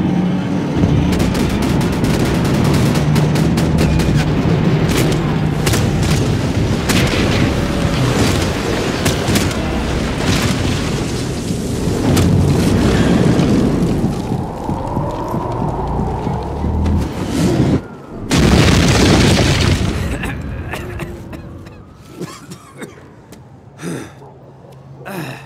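Gunfire in Max Payne 3, repeated sharp shots and bursts amid combat noise, grunts and gasps over a loud continuous mix, with a brief drop to quiet near the end.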